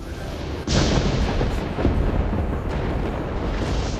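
A sudden loud boom of a great bow breaking in a palace erupts and then rolls on as a sustained, roaring rumble that slowly fades.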